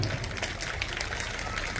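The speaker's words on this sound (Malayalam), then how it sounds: "എല്ലാവരും നമ്മുടെ ടീച്ചേഴ്സിന് വേണ്ടി ഒരു കൈയടി കൊടുത്ത് ടീച്ചേഴ്സിനെ പ്രോത്സാഹിപ്പിക്കണം" Audience at a school annual day clapping for the teachers, a dense, steady patter of many hands filling the hall at moderate loudness.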